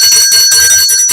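A bright bell rings loud and steady, its sustained metallic tones pulsing in several quick strokes with no voices.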